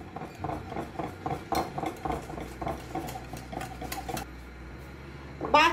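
A spoon stirs a creamy dessert mix made with Tang passion fruit juice by hand in a bowl, giving a rapid, rhythmic series of close scraping clinks against the sides, ending in a louder clatter.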